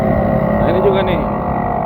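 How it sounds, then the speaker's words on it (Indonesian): A vehicle with a loud, noisy exhaust in road traffic between Tangerang and West Jakarta, giving a steady, close rumbling drone with a brief rising whine midway. "knalpot berisik ya"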